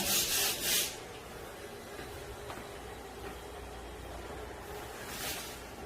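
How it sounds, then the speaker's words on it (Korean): Sandpaper pressed and rubbed across cracked wall surfaces during apartment renovation, a soft, quiet rasping scrape with brief louder swipes at the start and near the end. "지금 이렇게 사포로 눌러서그 균열 있는 부분 매끄럽게 한 다음에 페인트 칠을 할 겁니다"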